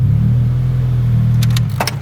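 A car engine idles with a steady low rumble, close and loud, while it warms up, and a few brief clicks or jingles near the end.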